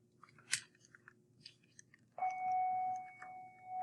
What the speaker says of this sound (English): Sorry about all the bells.